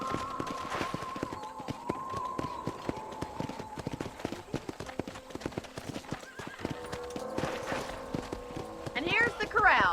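Horse hooves clip-clop steadily while riding in the video game Red Dead Redemption, a close, even rhythm of hoofbeats carrying throughout, with a whinny or neigh and a voice talking over the ride.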